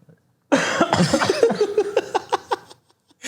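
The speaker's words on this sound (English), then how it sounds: "for that quick cough break there" A single person coughs in a short burst of several rough hacks that taper off, close and fairly loud.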